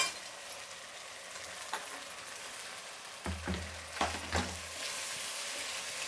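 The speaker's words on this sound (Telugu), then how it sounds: "అల్లం వెల్లుల్లి పేస్ట్ పచ్చివాసన పోయేదాకా సిమ్లో పెట్టుకొని వేయించుకుందాము" Ginger garlic paste frying in a pan for pepper chicken, a steady close sizzle with a few clinks and stirring scrapes partway through, no voices.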